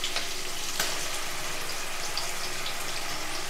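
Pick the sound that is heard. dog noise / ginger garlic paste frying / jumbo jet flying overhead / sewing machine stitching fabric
ginger garlic paste frying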